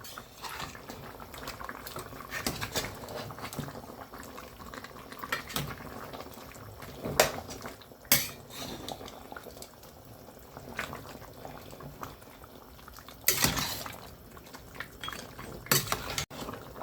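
A pot of turkey neck curry bubbles and sizzles steadily throughout as its water cooks down, with occasional clinks of a utensil scraping against the metal.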